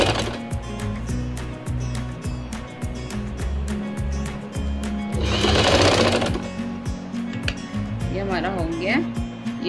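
A sewing machine stitches a zip onto an umbrella frock, a steady, fast mechanical rattle that runs throughout, with a short surge midway. A voice briefly speaks near the end.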